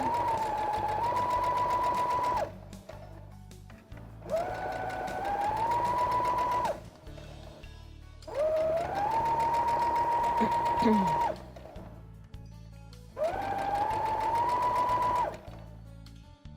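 Four long bursts of a sewing machine stitching a small girl's bag, each rising to a steady motor whine and stopping between runs, with someone talking over the machine.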